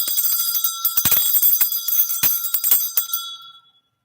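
A bell rung by hand several times in quick succession, bright metallic strikes with long shimmering ring that fades out at the end, no talking over it.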